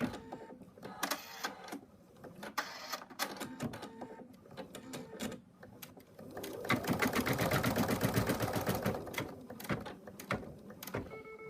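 An in-the-hoop embroidery machine stitches a placement line for a bunny's tail, a rapid mechanical whirring and clatter of needle strokes that builds into a steady buzzing run, close and moderate in level, with no talk.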